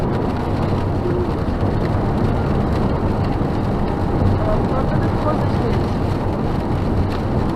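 Heavy rain drums on a moving car, a dense steady wash of noise with wind rumble throughout, while a person talks over it.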